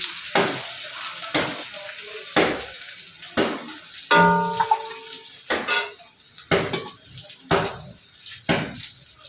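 Pre-fried potatoes go into a hot pan with black cumin and bay leaf and are stirred, giving repeated scraping clinks of a utensil against the pan over a soft background sizzle, with no talk.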